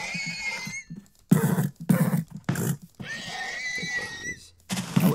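Minecraft horses whinny in a few separate bursts, close and fairly loud, with short snorts and hoof-like thumps between the calls and no talking.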